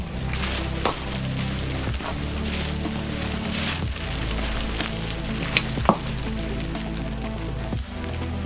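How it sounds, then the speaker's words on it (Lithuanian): Light rain falls steadily in a mountain gorge near Zakopane, a dense, even patter of drops with occasional sharper taps close by, and no voices. "Biškį lyja."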